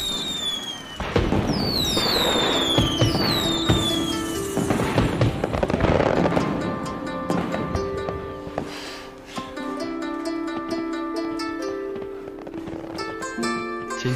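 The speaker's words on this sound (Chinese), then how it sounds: "今天的烟花跟上一次的一样美。" Fireworks burst outside at night, with whistling rockets climbing and popping in quick succession before giving way to softer crackles and a soft musical score.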